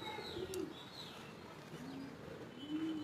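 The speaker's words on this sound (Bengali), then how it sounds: "এই হচ্ছে কবুতরটা, সবুজ মাদি কবুতর ম্যাড্রাস" A green female Madras pigeon coos softly nearby, a few low murmuring coos spread over a quiet background.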